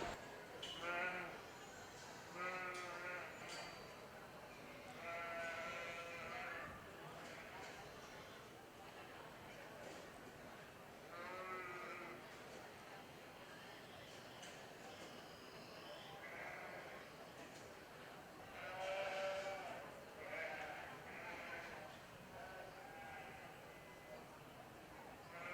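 Yearling ewes and lambs bleat intermittently in a show ring at a market lamb show, several calls scattered over a steady crowd murmur with voices talking in the background.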